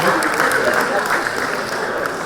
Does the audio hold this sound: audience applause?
yes